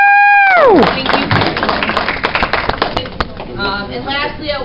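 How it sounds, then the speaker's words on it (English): At a girls basketball banquet, a whistle-like whoop rises, then a banquet audience breaks into a burst of dense, close applause that thins out after a few seconds as talk resumes. "I would like to give you guys a round of applause."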